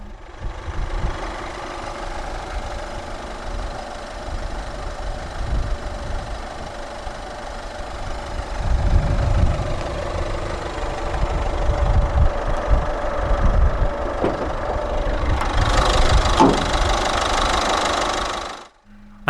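A 2014 Peugeot 2008 with a 1.6-litre e-HDi turbo diesel inline four idles with a steady, loud diesel clatter and rumble, close by, swelling slightly midway before cutting off at the end.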